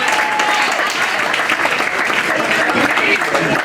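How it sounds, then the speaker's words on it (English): A wedding reception crowd gives the best man a big round of applause, dense and steady clapping from many guests that stays loud throughout without any talk. "Big applause for the best man"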